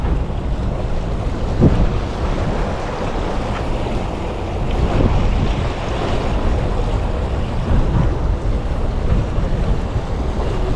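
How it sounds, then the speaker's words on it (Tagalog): Strong sea current rushing past, a continuous loud wash of water and surf with heavy wind buffeting the microphone and no voices. "Ang lakas masyado ng agos."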